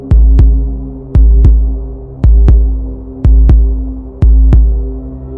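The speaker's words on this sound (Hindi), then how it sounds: "अनिका का दिल जोर से धड़कने लगा।" A pounding heartbeat sound effect for a horror story: five slow double thumps, each a sharp deep lub-dub with a fading low hum between beats, loud and alone.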